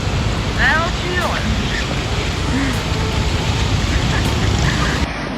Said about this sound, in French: Alors un, il pleut des cordes